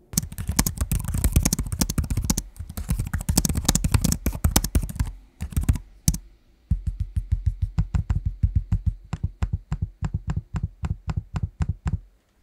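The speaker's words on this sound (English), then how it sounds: "a quick audio sample to hear what the keyboard and trackpad sounds like" Rapid, close-up clatter of HP Spectre x360 14-inch laptop keys being typed, followed by a steady series of crisp, evenly spaced trackpad clicks.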